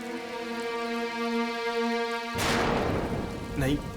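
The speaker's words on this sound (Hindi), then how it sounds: "इतनी बारिश हो रही है" Heavy rain pours down outside on a dark night, a broad steady wash that swells suddenly after a sustained musical tone and stays loud with a few sharper bursts near the end.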